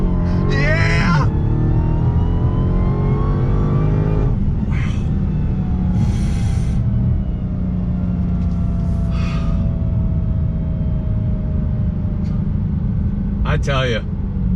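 Car launching hard off the line using launch control, engine roaring loudly with a steady drone and slowly rising pitch, while people gasp and shout excitedly over it.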